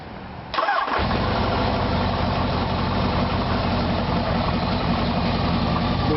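A 1977 Kawasaki KZ1000 A1 motorcycle engine with carburetors turns over briefly, catches, and settles into a steady, rumbling idle nearby, loud and continuous after the start.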